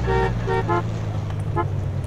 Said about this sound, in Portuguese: Vou apertar a buzina de jeito aqui.